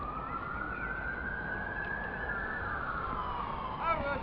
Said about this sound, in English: One ambulance has gone off up the hill, and now there's another one coming back down the hill.